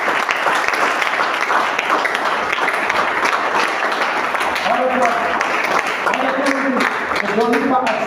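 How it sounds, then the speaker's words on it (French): A church congregation applauds loudly, sustained dense clapping running throughout with some voices calling out over it. "Acclame très fort."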